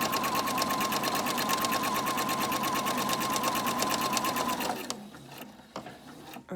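A sewing machine quilts fabric for a Bible cover, running in a fast, even stream of needle strokes for several seconds before stopping, followed by a few faint clicks and handling sounds.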